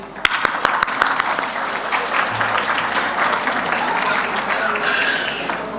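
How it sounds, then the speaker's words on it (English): Audience applause at a community awards night, a few sharp claps at first swelling into a dense sustained round with crowd voices mixed in. "can we please have a round of applause for the ladies tonight?"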